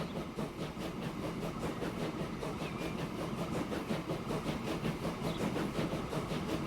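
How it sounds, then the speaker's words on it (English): An ore train arriving in the video game Transport Fever 2 makes a steady, moderately quiet rhythmic clatter of wheels over rail joints, with an underlying engine rumble. "And here comes our little train."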